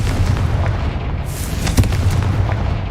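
A Confringo fire spell explodes in Hogwarts Legacy, giving a deep booming blast with a sharp burst partway through over a continuous rumbling bed of game sound.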